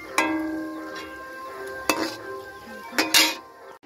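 Small cut pieces of nimki dough fry in a pan, their soft sizzle broken by several sharp clinks and scrapes of a metal utensil against the pan, spaced a second or so apart.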